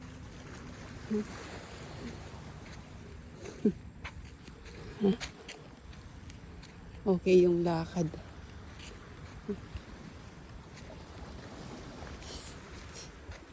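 Steady sea waves washing at the shore form a continuous wash under the whole stretch, with occasional soft footsteps and brief bits of nearby talk on top.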